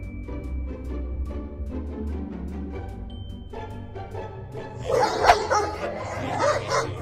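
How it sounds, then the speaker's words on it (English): A dog barks and yips in short repeated bursts, then snarls and scuffles louder near the end, a close, agitated sound with no talking. "Is this dog greeting his friend?"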